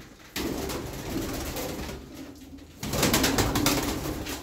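Pigeons near a Turkish pigeon keeper's loft, including a mirror-tailed female flipping in the air, with dense close cooing and wing rustle that grows louder partway through.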